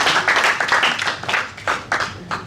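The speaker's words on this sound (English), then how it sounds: "So from me, a definite round of applause for that." An audience applauds a team at a diabetes community event, with dense, steady clapping that holds loudly for a couple of seconds and rises in a few brighter bursts.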